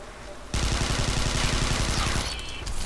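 Sustained automatic gunfire in Interstellar Marines, a rapid regular stream of shots starting abruptly and holding loud and close for about two seconds before tailing off.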